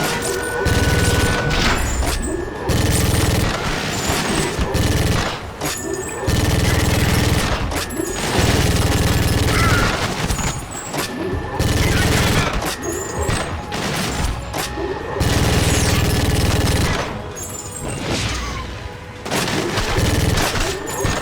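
Heavy mag rail gunfire in the GoldenEye: Rogue Agent video game, with loud repeated blasts and booming impacts in bursts across a chaotic firefight, with someone talking over the action.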